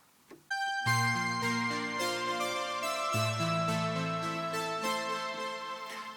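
A single layer of the Marion synth plays a sustained chord melody, entering after a brief click and holding rich, steady tones with one chord change midway.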